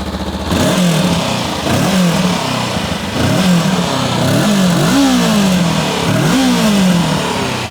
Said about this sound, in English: This is a parallel twin with a 180 crank,